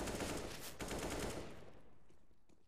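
Rapid CS:GO gunfire sprayed through the mid smoke, a dense burst of loud shots for about a second and a half that then trails off into a fading echo.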